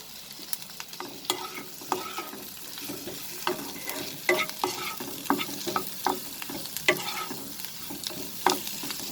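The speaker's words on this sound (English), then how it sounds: "just saute it for 30 seconds over high flame" Mixed vegetables with salt sautéing over a high flame for a restaurant-style dish, with a steady sizzle and frequent clattering strokes of a spatula stirring the pan, close and continuous throughout.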